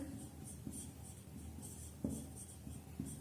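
A teacher writes on a board in a classroom, giving soft scratchy strokes and a few sharper taps in an irregular rhythm. The writing is close and quiet, and no one speaks.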